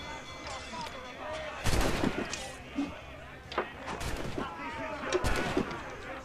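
Cannon and gunfire boom in several separate bursts during ship combat in Assassin's Creed Rogue, heavy blasts over a rumbling game soundscape.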